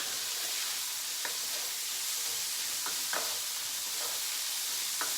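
Bacon sizzles steadily in a pan at medium heat, a constant soft frying hiss with a few faint pops and clicks scattered through it, no talking.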